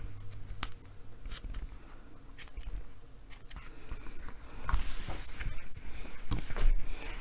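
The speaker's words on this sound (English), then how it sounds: "Give me some scissors." Quiet scissors snip and trim ribbon ends at a crafting table, several short crisp cuts with light rustling and handling noises, close and soft, no voices.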